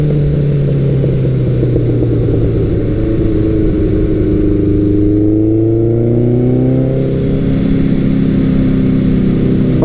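A Suzuki GS1100L or Yamaha XJ1100 Maxim big-bore motorcycle engine pulls hard out of a corner, its loud, steady growl rising and shifting in pitch as it accelerates, close and continuous throughout.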